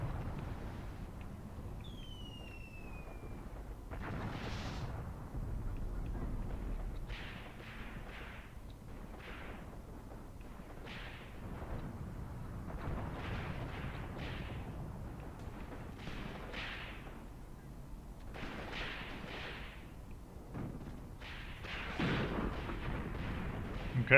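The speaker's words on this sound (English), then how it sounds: "the last artillery barrage is falling on this area with incendiary, just to burn the village a little bit" Artillery barrage of incendiary shells falling on a village in the Graviteam Tactics war game, with repeated distant booms and rumbling blasts spread irregularly over a steady wind-like background.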